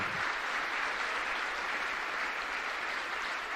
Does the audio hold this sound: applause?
yes